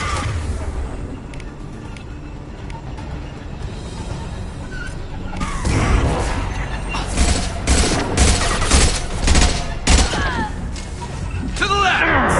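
Gunfire in Mass Effect 2 comes in bursts of rapid shots with mechanical clatter, growing louder and denser partway through, over game dialogue and background battle noise.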